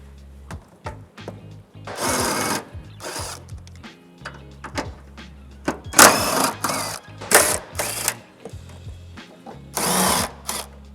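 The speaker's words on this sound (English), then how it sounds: "you'll need a 13mm to remove the 4 nuts on this cross brace" Four nuts come off a cross brace under a 2019-2021 VW GLI with a 13mm socket on a power tool, in several short, loud whirring bursts separated by brief pauses.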